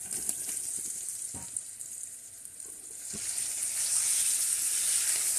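Hilsa fish pieces are turned in spice masala that has released its oil. A frying hiss sounds throughout with a few soft stirring knocks, and the sizzle swells louder and steadier in the second half.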